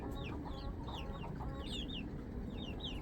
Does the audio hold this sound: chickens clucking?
yes